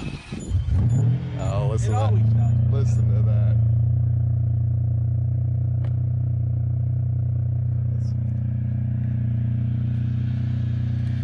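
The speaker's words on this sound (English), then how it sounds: "All right, this 550 Maranello, will it start?" A Ferrari 550 Maranello V12 cranks and fires, catching after a brief stutter and settling into a loud, steady, deep idle that holds for several seconds, with someone speaking briefly over the start.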